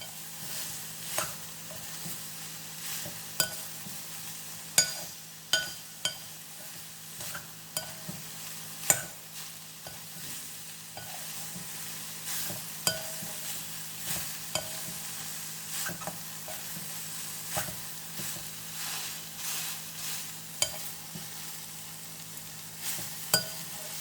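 Soya chunks fry in a pan for a dry soya varuval, with a soft continuous sizzle broken by repeated clicking scrapes of a spoon stirring and turning them throughout.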